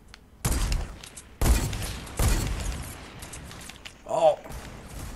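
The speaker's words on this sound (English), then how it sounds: "Where the fuck did I just get shot at from?" Several sharp, loud gunshot cracks in a sniper shootout video game, spaced about a second apart, followed by a brief ringing whine, with short pauses between shots.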